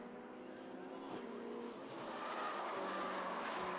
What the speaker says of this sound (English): There goes the number 89 car